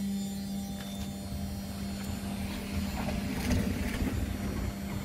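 A Whirlpool AWE 60110 washing machine motor runs with a steady low electrical hum and faint mechanical whirring that grows slightly louder partway through, with no talking.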